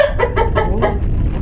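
A rooster and hens on a farm give a quick burst of four or five loud, close clucks in a rapid rhythm, which then trail off into quieter background.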